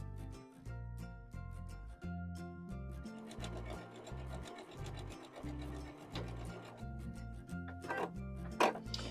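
A sewing machine stitches a quilt block, its needle running in a steady, close mechanical rhythm of quick repeated thumps with light rubbing of fabric, and no voice.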